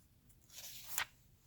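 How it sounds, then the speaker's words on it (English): A book page being turned, a soft papery rustle that builds into one short crisp swish, faint and close against a quiet background, with no talking. "Can't get my page turned."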